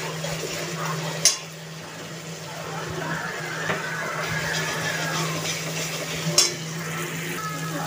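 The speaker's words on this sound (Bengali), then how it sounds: "এটা রসুনটাকেও একটু ভালো করে ভেজে নেব" Garlic paste fries in a pan during pav bhaji cooking, a soft continuous sizzle broken by a few sharp clinks of a spatula against the pan, with a faint engine-like hum in the background.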